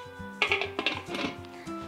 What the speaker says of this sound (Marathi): आता झाकण लावते